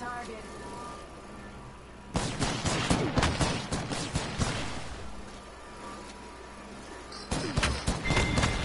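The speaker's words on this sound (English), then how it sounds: "Opening fire." Gunfire in Apex Legends, a dense stretch of rapid shots and impacts erupting midway and returning in a later burst, with quieter game ambience between.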